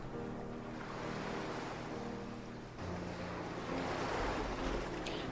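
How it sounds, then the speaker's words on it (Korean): Ocean waves wash and roll continuously near the shore, a broad steady surf with a swelling rush toward the end, heard alone without voices. "파도 소리"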